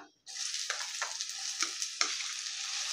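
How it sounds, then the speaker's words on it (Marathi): Onion tossed into hot oil for soybean bhurji bursts into a loud, close hiss right after a short silence, then keeps sizzling with soft scraping stirs. "तेलही गरम झालेलं आहे. तर आता त्याच्यात घालूया कांदा"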